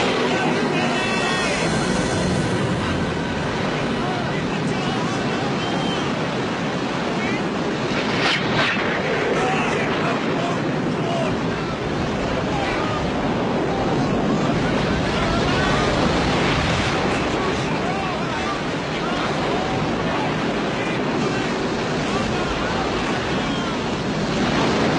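Stormy waves and gusting wind on a lake, a steady broadband roar of surf and wind with heavier surges through the middle, while a voice speaks over much of it.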